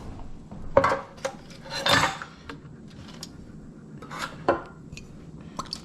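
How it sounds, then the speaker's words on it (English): Fish fillets are handled and laid onto a pan, giving a few scattered clinks and scrapes of metal cookware with quiet rustling between them and no talk. "Now the fish, I'm going to put on a pan here."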